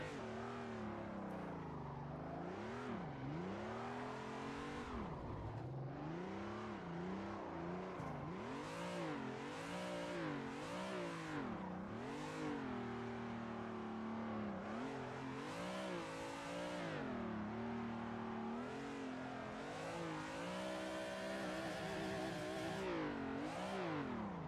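A race car drifting in Assetto Corsa, its simulated engine revving continuously and loud, the pitch rising and falling in repeated sweeps as the throttle is worked through slides for the whole stretch.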